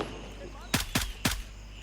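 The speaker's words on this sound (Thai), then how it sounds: "เสียงปืนแตกแล้ว" Three sharp gunshots crack in quick succession over a low steady hum in the video game Gray Zone Warfare, with no talking.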